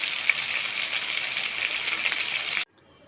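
Potato pieces fry in hot oil in a pan, a loud, dense, steady sizzle that runs continuously and then cuts off abruptly, leaving near silence.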